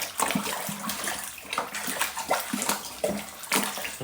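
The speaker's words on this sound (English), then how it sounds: "Right, now this is where we add our cold water." Cold tap water gushes through a hose into a Youngs Harvest cider kit, a loud, close, continuous splashing pour with uneven sloshing surges.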